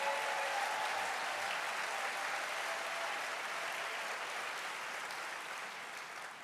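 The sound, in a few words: audience applause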